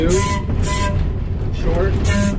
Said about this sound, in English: now we hear the whistle